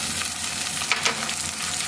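Chicken curry with fenugreek leaves fries in a pan, a steady close sizzle with a couple of brief stirring scrapes, heard alone without talk.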